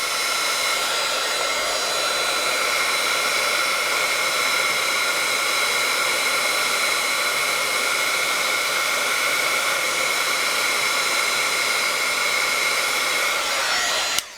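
Heat gun melting white embossing powder for a handmade card, a loud steady whooshing hiss blowing close and unbroken until it switches off abruptly at the end.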